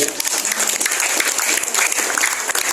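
An audience at a Balinese Hindu temple pilgrimage gathering applauds a singer with dense, steady clapping, loud and close throughout.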